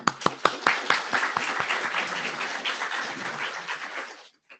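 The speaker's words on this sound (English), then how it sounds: "Let's give a quick round of applause, actually." A small audience at an IETF research group session claps, starting with a few sharp individual claps that swell into brief steady applause, then fade out quickly.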